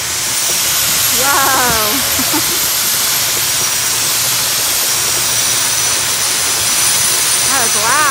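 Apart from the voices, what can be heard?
geyser erupting with hissing steam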